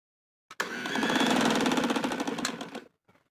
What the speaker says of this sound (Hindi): इलास्टिक को आपने बचाकर ही सिलाई लगानी है